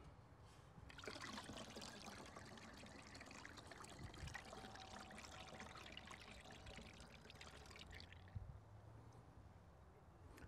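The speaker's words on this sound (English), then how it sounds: "I'm going to refill it to this line, then I'm going to see how much water that took" Water poured into a graduated container to refill it to a marked line for calibrating a small-acreage pesticide sprayer, a continuous trickling pour lasting several seconds before it stops, with no voices over it.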